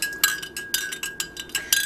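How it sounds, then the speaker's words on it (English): A spoon clinks repeatedly against the side of a cup while stirring lemon ginger tea, about eight bright, evenly spaced taps close by, with no voices. "You mix it up."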